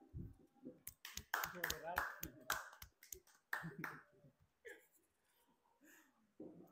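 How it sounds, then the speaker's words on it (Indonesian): An audience claps for the moderator at an Indonesian teachers' project-based learning presentation session, a dense burst of applause that swells and then thins out into scattered claps, with a voice talking over the tail. "kita beri aplaus untuk"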